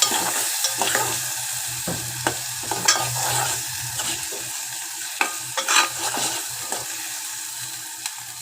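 Mutton frying with turmeric, ginger and garlic in a pan, a continuous close sizzle broken by frequent spatula scrapes and knocks in an irregular rhythm.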